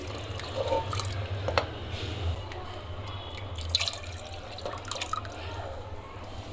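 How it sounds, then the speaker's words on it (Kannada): Water for ghee rice pours and splashes into a cooking pot by the glassful in short trickles and drips over a steady low hum, fairly close. "ಇದೇ ಲೋಟದಲ್ಲಿ ನಾನು ಇವಾಗ 3 ಲೋಟ ನೀರು ಹಾಕ್ತಾಯಿದ್ದೀನಿ"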